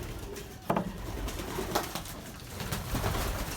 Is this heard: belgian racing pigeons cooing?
yes